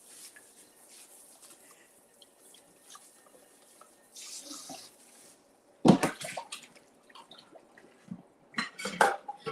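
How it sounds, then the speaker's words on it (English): Water from a kitchen tap runs quietly, with louder splashing and clattering bursts as a cooking pot is rinsed out in a home kitchen. "let me just rinse this out. It's probably loud."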